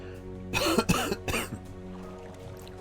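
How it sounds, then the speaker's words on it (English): A person coughs in a short burst of about three harsh coughs, close and fairly loud, trailing off into quiet throat noise over a low steady hum. "Cough, go away. I don't want you."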